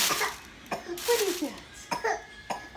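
A young child coughs several times in short bursts close by, mixed with small vocal sounds.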